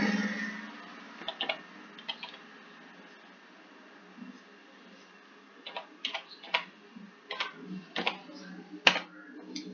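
Light clicking of a computer keyboard, scattered single keystrokes and short bursts of typing with pauses, fairly quiet and close.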